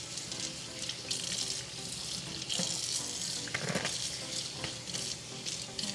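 Water runs steadily from a tap into a sink while curly clip-in hair wefts are rinsed of conditioner, making a continuous soft hiss with faint splashes and no talking.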